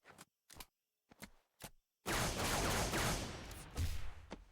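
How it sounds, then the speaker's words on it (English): Custom battle rifle firing sound for a Halo-style game, blended from the Halo Reach assault rifle and the Halo 3 battle rifle: several short separate shots, then a long loud sustained burst of automatic fire, heard alone without talk. "I also changed the battle rifle sound to this. It's a mix between the Reach AR and the Halo 3 battle rifle."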